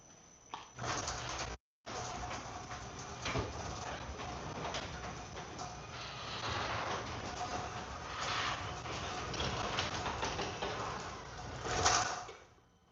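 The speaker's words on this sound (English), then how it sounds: "Let me close this garage so the mosquitoes won't come in here." A garage door rolls shut in a home garage, a steady rattling rumble that runs for several seconds, fairly quiet, with a brief break near the start and a louder clunk toward the end.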